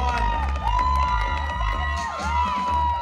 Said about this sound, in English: Give a big round of applause for our Miss Bikini Novice Class 1.